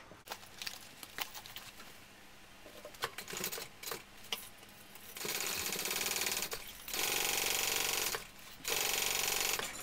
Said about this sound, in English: going to do is just do a basting stitch around where I've clipped.